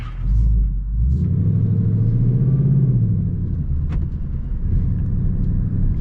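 A 2024 Ford Mustang GT engine with sport exhaust rumbles steadily with a deep, throaty exhaust note, cruising at low revs, heard from inside the car with no talking.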